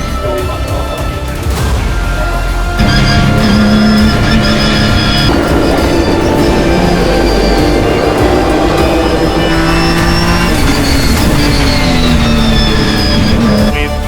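Porsche and other race cars in a Britcar endurance race at Donington Park, loud continuous engine roar with rising and falling pitch as cars pass and shift gears, several engines overlapping close by.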